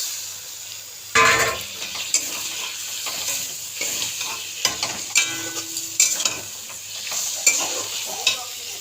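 Mutton pieces stirred and fried in half-cooked masala in a pan, a sudden loud sizzle as the meat goes in, followed by continuous frying crackle and repeated spatula scrapes and knocks against the pot.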